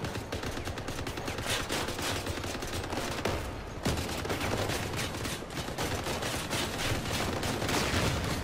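Machine guns in the Crossout vehicle combat game fire in rapid, unbroken bursts that overlap into a dense, loud rattle lasting throughout, with no pauses and no voices.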